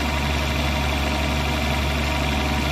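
A tractor engine in Farming Simulator 19 runs steadily with a constant low droning hum, close and continuous, with no talking.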